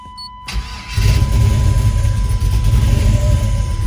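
A Chevrolet S10 truck's 5.3L engine, fitted with nitrous and two-step launch control, cranks briefly and catches, then runs loud and steady at close range with a deep, rumbling drone.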